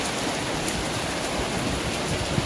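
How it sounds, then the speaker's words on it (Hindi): Steady rain falls in a dense, even hiss with a soft patter of drops, continuous throughout and no voices. "बारिश आई छम छम छम"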